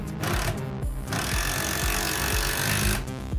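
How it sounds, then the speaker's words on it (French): Impact wrench driving a Torx screw into a wooden beam during bathroom ceiling work, hammering in rapid loud bursts with brief pauses between runs, close by and with no talking. "Le bruit que vous entendez aussi, c'est une boulonneuse."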